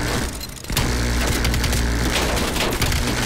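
Turret machine gun fire in Call of Duty Cold War, loud dense rapid bursts that start after a brief lull and continue almost unbroken, with booming impacts in the mix.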